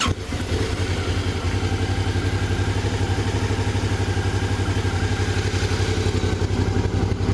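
A Suzuki V-Strom 650XT motorcycle with stock exhaust fires up and settles into a steady, loud, close idle with a regular pulsing rhythm, no voices.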